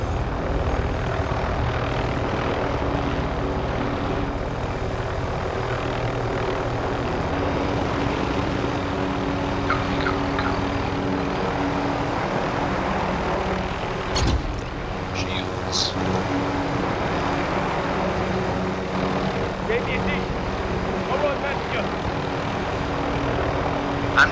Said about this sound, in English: I'm just saying we could probably easily go take down that copter.